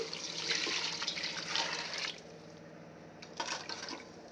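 Water poured into a cooking pot for two glasses of basmati rice, making a steady close splashing stream that eases off midway and then briefly surges again, with no voices.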